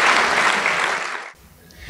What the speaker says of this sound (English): So a round of applause to all of you.